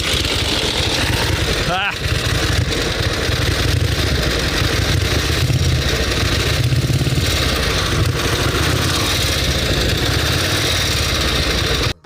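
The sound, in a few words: antique sidecar motorcycle engine running while ridden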